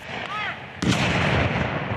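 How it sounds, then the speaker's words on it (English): A cannon fires at a Civil War reenactment skirmish in Oregon, one loud, sharp boom with a long rumbling tail, after a moment of outdoor background noise. "We warn people, because those cannons are loud."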